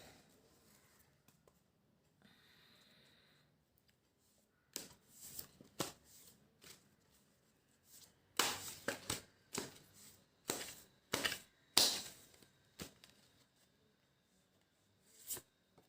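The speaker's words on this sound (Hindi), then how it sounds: "हम कार्ड्स शफल करके यहाँ पर सेट कर सकते हैं" Tarot cards are shuffled close up and quietly, giving a series of sharp riffling bursts in irregular rhythm after a near-silent start, with no talking.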